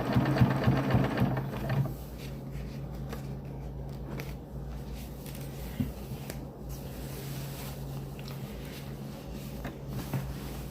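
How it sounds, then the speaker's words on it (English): A sewing machine runs fast and loud for about two seconds while stitching a down throw underquilt, then drops to a low steady hum with faint handling noises and occasional soft clicks. "And try to sew as straight as possible."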